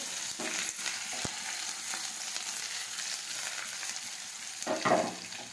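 Onions sizzle and crackle steadily in hot oil in a pan, a continuous close frying hiss with a few sharper pops and faint utensil clinks.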